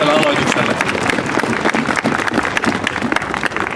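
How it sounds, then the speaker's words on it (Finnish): Dense, steady audience applause after a trumpet fanfare at the official opening of Lahti market square in 2015, a continuous outdoor crowd clapping at close range without a break. "Annetaan vielä kerran kunnon aplodit tälle juhlalliselle aloitukselle."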